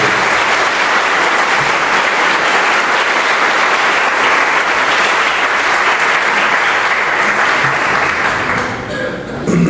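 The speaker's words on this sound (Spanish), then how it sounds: "¿Quién le da un aplauso a Jesucristo?" A church congregation applauds Jesus during a Spanish-language sermon, with steady, loud clapping from a large crowd that fills the whole stretch before fading slightly near the end.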